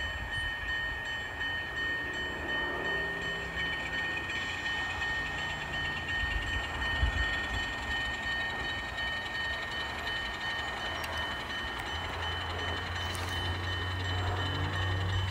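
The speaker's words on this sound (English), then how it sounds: "we have to ease forward with the boxcar" A freight train moves slowly forward on rails, pulling a boxcar while switching cars at a clay plant, a steady low rumble with faint rolling noise and no talk.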